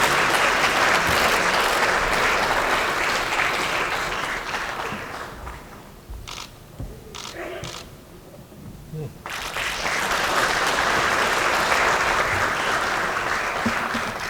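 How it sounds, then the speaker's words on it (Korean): A crowd of lawmakers applauds a departing party emergency committee chairman at a political gathering, with loud sustained clapping that thins and drops midway before swelling back to full strength. "박수로 받으시죠."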